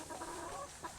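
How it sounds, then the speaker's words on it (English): A rooster clucks softly up close, a few low throaty murmurs run together in a brief, continuous burst with no voices over it. "Hello, Rotty the rooster."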